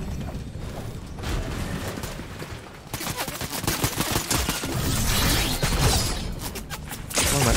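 Video game gunfire rattles in dense, rapid volleys mixed with mechanical clatter, loud and close throughout, swelling into heavier bursts near the end.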